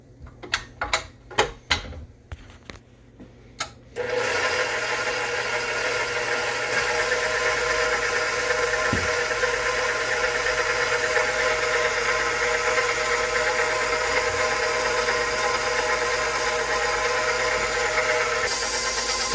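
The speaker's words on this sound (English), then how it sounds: "we're going to get the KitchenAid started and let it start mixing that" A KitchenAid stand mixer churns flour into pizza dough, running as a steady, loud mechanical whir with a faint rhythmic knock, preceded by a few seconds of sharp clicks and taps before the motor starts.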